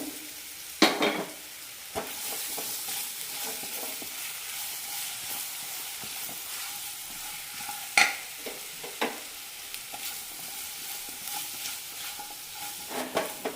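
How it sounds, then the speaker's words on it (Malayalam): Colocasia pieces fry with chilli powder in a pan, a steady low sizzle carrying through while a spatula stirs and knocks against the pan in scattered clicks, close by and alone. "ഇതിലേക്ക് ചേമ്പിൻ്റെ കഷ്ണങ്ങൾ ഇട്ട് കൊടുക്കാം കരിയാതെ ശ്രദ്ധിക്കണം"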